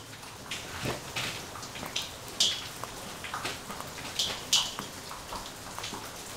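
Steady rain patters close by, with scattered louder drips and splashes landing irregularly over a constant soft hiss.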